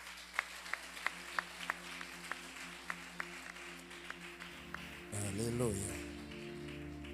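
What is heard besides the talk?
church congregation applause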